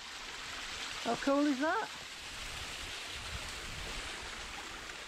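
Waterfall in Carding Mill Valley on the Long Mynd, a steady broadband rush of falling water close by, filling the whole clip, with a brief spoken remark near the start.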